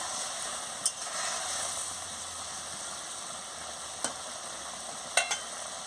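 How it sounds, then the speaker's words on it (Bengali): A steady simmering hiss from a pot of salted water on the stove, with a few sharp scrapes and clinks of a spoon stirring inside it. "ভালো করে নুনটাকে নাড়িয়ে নিচ্ছি"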